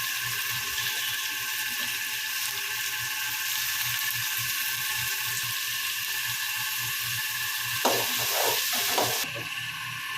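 Chopped onions fry in a pan with a steady, broadband sizzle throughout, joined near the end by a few brief scraping stirs; a low hum runs underneath, and nobody speaks.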